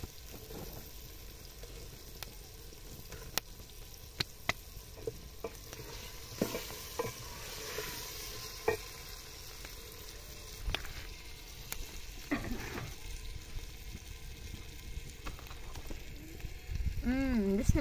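Potatoes and egg frying in a pan over a village wood fire, a soft steady sizzle with scattered pops and crackles and a few utensil knocks, faint and close.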